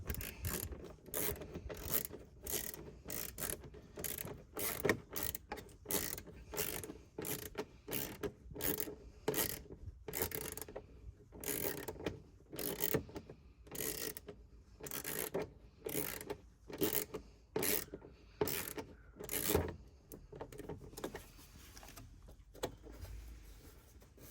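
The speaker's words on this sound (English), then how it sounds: "you can go ahead and tighten up the top hole" Rapid ratcheting clicks from tightening the top fixing of an arch guard on a Toyota Yaris GR, a close, steady run of sharp mechanical clicks in short bursts with brief pauses, no talking.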